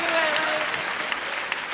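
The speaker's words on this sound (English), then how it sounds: "So would you please give a warm welcome for Laid Back Lenny" An audience claps and cheers to welcome a performer onstage, a steady wash of applause that is fairly faint and distant, with a voice talking over it.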